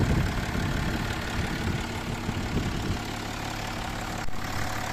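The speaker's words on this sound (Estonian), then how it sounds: "Mootori hääl on selline" A steady, low engine idle of a 2013 Land Rover Discovery 4 rumbles continuously, even and unchanging, with a faint mechanical hum throughout.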